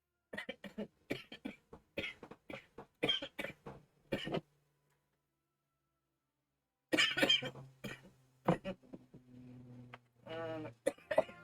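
A person coughs repeatedly in quick dry bursts, a run of harsh hacks, a pause, then more coughing mixed with throat sounds and strained breaths, close and fairly quiet.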